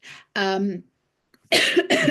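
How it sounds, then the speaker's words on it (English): A couple of close coughs with a brief throat-clearing sound, separated by a short silence, with no other noise. "Excuse me, terrible cough."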